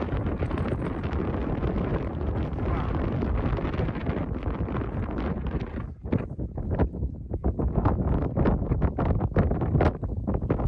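Strong wind of about 8-10 m/s in the Kilpisjärvi wilderness buffets and roars across the microphone in heavy continuous gusts, easing briefly before rushing back in choppy bursts.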